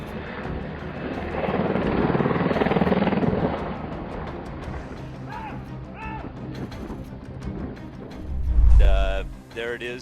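A helicopter's engine and rotor roar loudly during a helicopter crash over the Gulf of Finland, swelling and then easing off, with people talking over the noise near the end.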